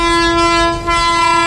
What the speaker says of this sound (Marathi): तर आता ट्रेनचा हॉर्न तर वाजलेला आहे, हळूहळू येते.